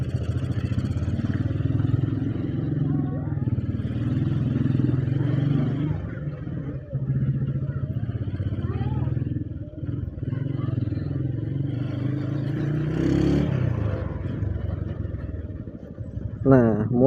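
Motorcycle ridden along a narrow road near Bogor, Indonesia, its engine humming steadily and close with some clatter and a brief rev near the end, under the rider's ongoing talk.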